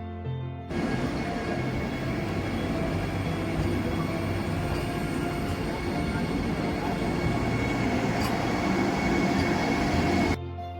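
A Vande Bharat train rushes through Udhampur station, a loud, sustained rumble and roar of rolling wagons lasting around ten seconds, starting and stopping abruptly with no voices over it.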